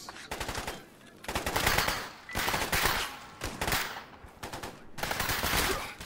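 Gunfire in the video game Stalker GAMMA, loud close bursts of automatic fire in four or five sustained volleys separated by short pauses.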